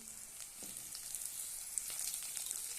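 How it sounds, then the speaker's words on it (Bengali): Chicken and capsicum fry in a pan with a soft, steady sizzle and faint crackling, quiet and close, with occasional light stirring and no voices. "আর ক্যাপসিকামগুলোও না একটু হালকা ভেজে নেব।"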